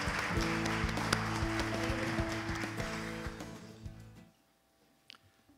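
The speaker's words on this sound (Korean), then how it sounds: "Please welcome him with a big round of applause." Audience applause at the opening of a diplomatic conference: a broad, dense wash of clapping that holds steady for about four seconds and then fades out to near silence, with one faint tap near the end.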